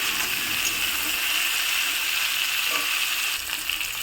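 Potatoes and cauliflower fry in a pan in oil for a fish curry with lentil dumplings, giving a steady, close hiss of sizzling that runs evenly throughout with faint scrapes, no talking.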